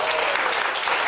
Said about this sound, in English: I think our amateurs I think they deserve an extra round of applause